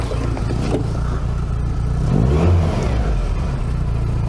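A Classic Mini's cold engine runs without choke just after starting, a loud, close, continuous mid-pitched drone with a rev swelling up and easing back, no talk over it.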